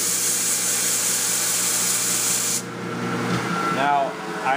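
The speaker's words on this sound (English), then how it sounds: "So this is our big belt sander here" A large belt sander runs with a loud broadband hiss of abrasive on wood, then drops to a lower rumble partway through as the contact changes.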